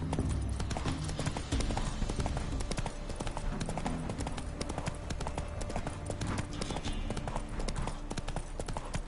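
Roach, Geralt's horse in The Witcher video game, gallops in a rapid, steady clip-clop of hoofbeats that runs continuously and close under ambient game sound, with a voice briefly heard.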